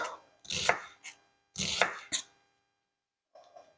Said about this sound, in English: you can run the knife up and down without cutting your fingers off